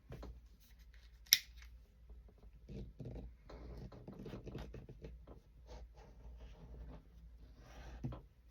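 Scissors cutting apart journal cover material close up: soft crisp snips and rustling in an irregular patter, with one sharp click early on and a quiet, otherwise still room.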